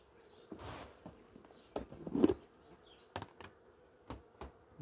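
Honeybees at a hive weakened by varroa mites buzz in a low, steady hum, punctuated by a few sharper knocks and handling sounds nearby.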